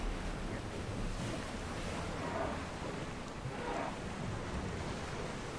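A ship sails on open water in Assassin's Creed Odyssey: a constant wash of waves and wind rolls on steadily without a break or voices.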